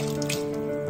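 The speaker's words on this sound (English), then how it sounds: "So let me just add water." Water runs steadily from a tap into a pot of three potatoes, a close, even gush with faint ringing tones and no talking.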